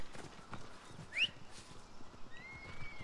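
A horse in the video game Assassin's Creed Odyssey gives a brief high whinny partway through, amid soft clip-clop footsteps and steady game ambience.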